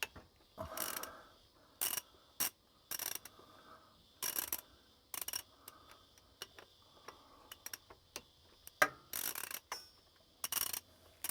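Socket ratchet fitted with a T50 bit working bolts loose during a front tailshaft change on a VZ Adventra, sharp bursts of ratcheting clicks in short separated runs, close, with quiet gaps between.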